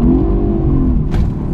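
A loud supercar engine roars steadily near the listener in sport traction mode, its pitch rising slightly then settling, with a brief higher whoosh toward the end.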